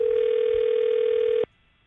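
A landline dial tone from a Princess Trimline phone plays as a steady, loud, continuous tone for about a second and a half, then cuts off abruptly into quiet room noise.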